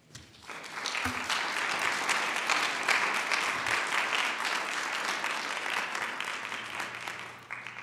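Audience applause at a city council regular meeting, a steady dense roar of clapping that swells quickly, holds for several seconds, then tapers off, fairly distant in a large room.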